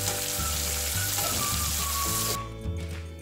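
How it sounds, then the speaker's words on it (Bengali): Paneer pieces frying lightly in hot oil for a cauliflower curry give a steady, close hissing sizzle that cuts off sharply near the end, leaving a quieter low background. "পনিরের টুকরোগুলোকে আমি হালকা করে ভেজে তুলে নেব"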